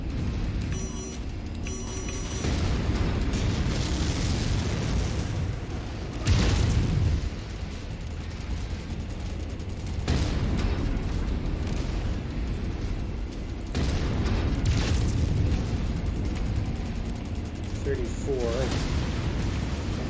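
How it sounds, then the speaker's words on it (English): Autocannon fire and explosions in the MechWarrior 5 video game, repeated booming blasts and thuds over continuous rumbling battle noise, with a voice talking over it. "I'm gonna keep using the autocannon."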